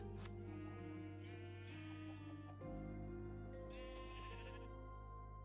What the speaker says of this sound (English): Alright, got all the sheep.